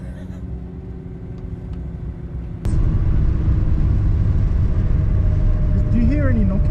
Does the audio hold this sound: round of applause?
no